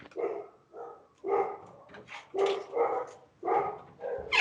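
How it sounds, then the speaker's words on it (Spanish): Dogs bark repeatedly indoors at medium distance, in short bursts of a few rapid barks separated by brief pauses, moderately loud and without talk over them. "si no, mis perros ladran mucho"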